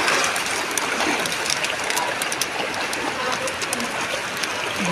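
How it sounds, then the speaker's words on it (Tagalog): Floodwater from an overflowing river in Sorsogon City rushes past in a steady, broad, hissing roar. "Nag-overflow na kasi yung salog, kaya ito nangyari dito sa amin."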